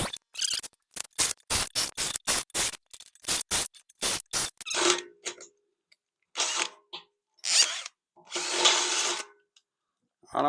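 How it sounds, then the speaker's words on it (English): A power drill bores a hole through a pipe during a custom flag pole and security camera pole build, first in a quick string of short, sharp bursts, then in several longer, rougher drilling runs at close range. "That way we're sure we don't drill through our other hole"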